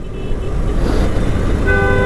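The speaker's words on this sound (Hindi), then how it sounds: "बिना कारण हॉर्न बजाए जाते हैं" Car horn tooting amid road traffic at Bhopura turn, with a steady rumble of passing vehicles and a short, brighter honk near the end; no speech.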